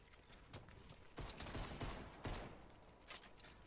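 Scattered gunfire from enemies in an online multiplayer shooter game, a fusillade of shots at moderate distance with several louder bursts spread across a few seconds.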